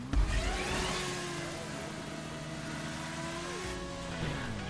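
A motorcycle engine in the video game GTA revs and whines, its pitch holding steady and then shifting as the bike accelerates, loud and continuous with no voices.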